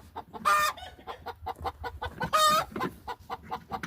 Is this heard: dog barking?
no